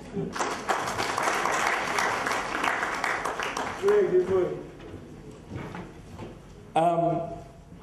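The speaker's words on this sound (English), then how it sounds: "Please give them another round of applause." A conference audience claps after a long presentation session, a broad burst of applause in the first half that fades as a voice begins speaking over the room.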